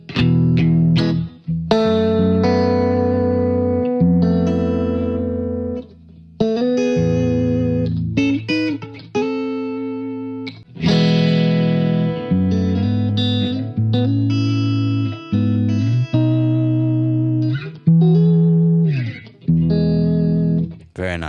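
A Safari Pedals Ladybug Reverb guitar pedal with its compressor turned up shapes electric guitar chords into sustained, reverb-washed tones, each strum ringing out then cut short, played loudly and close with no talking.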